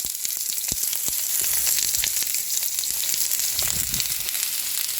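A big batch of chopped onions fries in hot oil for Mongolian beef, making a loud, continuous close-up sizzle with a few clacks of stirring scattered through.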